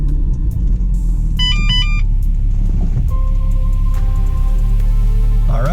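A Volkswagen Mk4 R32 rumbles loudly from inside while driving, its engine note rising and shifting, with electronic chimes from the car over the drone.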